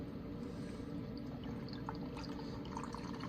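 Blue curacao cocktail, shaken and then poured over ice, giving a steady close liquid pour with faint clinks of ice running throughout.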